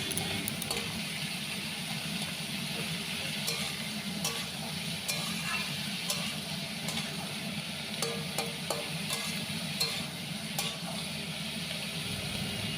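Chopped small onions fry in a wok with a soft, continuous sizzle and occasional light clicks of a spatula, moderately quiet and close, no voices.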